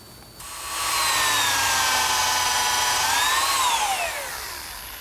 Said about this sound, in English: now I pre-drill and screw the lid to the lower rail